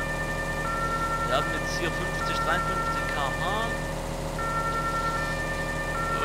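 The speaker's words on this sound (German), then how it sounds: "Das Martinshorn ist auch nicht gerade besonders lang" The emergency siren of a Mercedes-Benz Sprinter 311 CDI mod in Farming Simulator 2013 wails steadily with a rising and falling tone over a constant engine drone, while someone talks over it.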